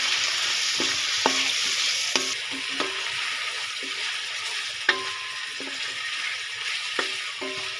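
Washed chicken pieces fry in a pot, giving a steady close sizzle with scattered soft clinks and stirring knocks of a spoon against the pot.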